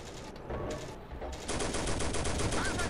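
The hull machine gun of a Pz.38 light tank rattles in Steel Fury while clearing village defenses, loud rapid bursts that grow denser toward the end, with a voice talking over them.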